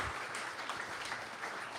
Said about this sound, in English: Let's give Varun a round of applause.